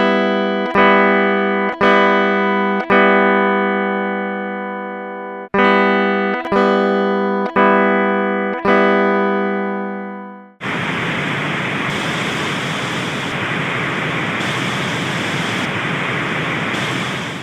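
Test tones played through guitar pickups back to back: several repeated struck decaying tones with steady harmonic bands, then a sudden switch to a loud steady broadband pink-noise hiss, alone without talk.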